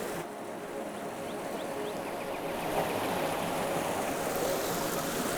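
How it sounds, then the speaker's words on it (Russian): A small river rushes through Lydford Gorge in Devon, a steady broadband wash of flowing water that holds constant and fairly close with no voices. "Такая небольшая речка столько тысяч лет вытачивала ущелье."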